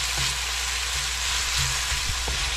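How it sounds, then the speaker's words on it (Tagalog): Garlic and onion frying in a pan for beef curry give a steady, close sizzle that runs through the whole stretch without a break, with faint stirring knocks now and then and no one talking. "Tapos naluluto na po itong ating bawang at sibuyas."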